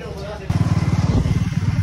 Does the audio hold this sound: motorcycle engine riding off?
yes